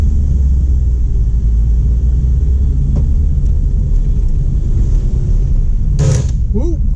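The engine of a 1950 Plymouth car rumbles loudly and steadily as the driver accelerates, heard from inside the cabin with a brief clunk near the end.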